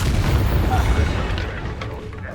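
A Confringo blasting spell in the Hogwarts Legacy video game erupts as a loud, rumbling boom that fills the opening second, then slowly fades into a lingering roar under in-game effects.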